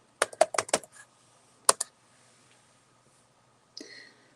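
Fingers tap letters on a computer keyboard in a quick burst of clicks, then a lone pair of keystrokes after a pause, close and fairly soft in a quiet room.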